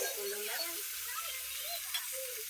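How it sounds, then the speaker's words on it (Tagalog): Tomatoes sizzle and crackle steadily in a hot pan, a soft continuous hiss with occasional stirring scrapes. "Prito tayo ng kamatis"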